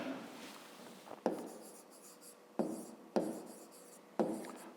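Pen writing by hand on paper while working a fifth-grade maths area exercise, close and quiet, with a few sharp taps where the pen lands between soft scratching strokes, no talk.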